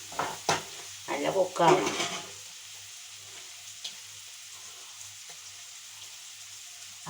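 Mussels (kallumakkaya) fry in a pan over a medium flame, a soft steady sizzle with stirring scrapes and clatters early on, while a person talks briefly over the start.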